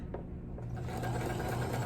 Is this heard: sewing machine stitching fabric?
yes